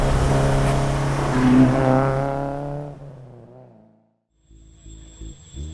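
A 1960s Alfa Romeo GT Junior engine revs loud and close for about three seconds, its harmonic drone gradually falling away into a brief silence before a quieter idle with a faint whine returns.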